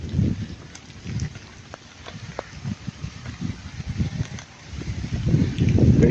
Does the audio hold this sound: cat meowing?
no